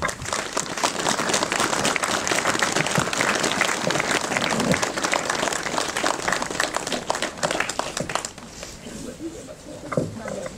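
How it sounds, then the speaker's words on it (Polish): Sustained audience applause at a commemoration of the 80th anniversary of the deportation of Poles to Siberia, dense and steady for about eight seconds, then thinning as a voice begins speaking. "Poproszę o brawa."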